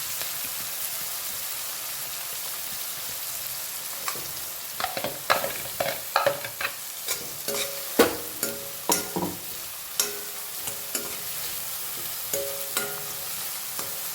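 Chopped garlic and onion frying in a pan for a spiny gourd and onion curry: a steady, close sizzle throughout, joined after a few seconds by repeated sharp spoon scrapes and clinks of stirring. No one speaks.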